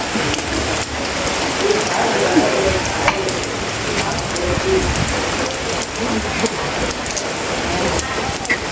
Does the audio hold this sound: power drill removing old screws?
no